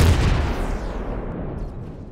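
Gunship strafing run in the space survival game Empyrion Galactic Survival: a loud, sustained roar of rapid gunfire and booming impacts that rumbles continuously, then slowly thins out toward the end.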